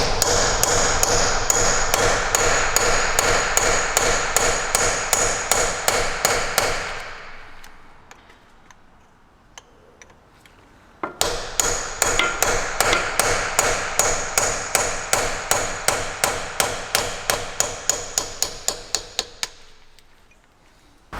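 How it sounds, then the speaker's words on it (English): Rapid, loud metallic hammer blows on a chisel notching a Toyota 4Runner differential drain plug, in two long bursts separated by a short quiet pause, each strike sharp and ringing, close up. "I'm going to use a sharp chisel and a hammer and basically put a notch in there"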